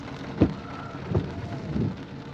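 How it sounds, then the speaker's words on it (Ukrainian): Steady rain hisses outdoors near a bathhouse on the Oril River, a close, continuous wash broken by a few louder muffled thumps. "Прийшов дощ"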